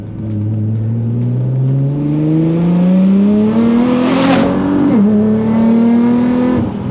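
A 700-horsepower Nissan R35 GT-R NISMO, a full-carbon road-going race car, accelerates hard on a road. Its engine note climbs steadily through the gears, loud and close, with one brief dip at a shift before it keeps rising.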